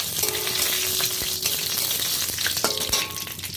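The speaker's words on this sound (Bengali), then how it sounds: "শুকনো লঙ্কা দুটো এলাচ নিয়েছি এলাচ দিলাম দুটো তেজপাতা এগুলো একটু ভেজে নিয়ে" Dried red chilies, two cardamom pods and two bay leaves fry in hot oil with a continuous close sizzle. A few stirring knocks land over it, and no one speaks.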